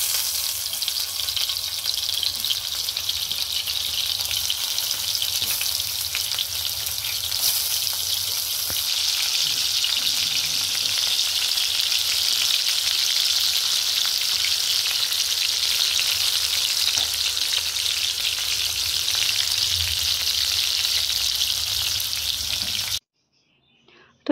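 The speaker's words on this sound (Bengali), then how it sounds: "তেলটা গরম হয়ে গেলে এর মধ্যে এবারে পটলগুলোকে ফ্রাই করে নেব।" Pointed gourd pieces frying in hot mustard oil, a dense, loud and continuous crackling sizzle lasting many seconds with faint stirring, swelling in brightness midway before cutting off abruptly at the end.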